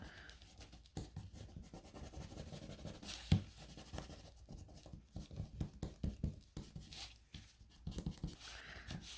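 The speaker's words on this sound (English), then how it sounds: "I want to go in here and I want to get that pencil mark off." An eraser rubs a pencil mark off paper in short, quiet scratchy strokes that come in irregular bursts over a faint background.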